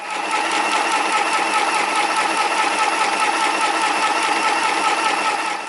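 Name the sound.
Janome mini sewing machine doing overlock stitching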